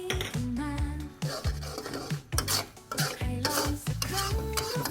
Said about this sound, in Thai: แล้วก็คนทุกอย่างให้เข้ากันอีกทีนึงครับ